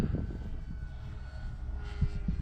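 An E-flite Clipped Wing Cub RC plane's propeller drones steadily, its motor hum carrying a slight vibration with a brief swell near the end, heard alone without talk.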